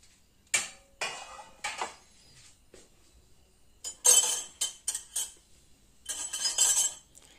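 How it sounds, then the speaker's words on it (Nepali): Tomato pickle ingredients being transferred into a bowl, with a utensil giving a series of sharp clinks and scrapes against the dish in irregular bursts, some quick and separate, others clustered together, all close and fairly quiet. "अब चाहिँ हामीले अचार बनाउनको लागि एउटा बाउलमा खनाउनुपर्छ"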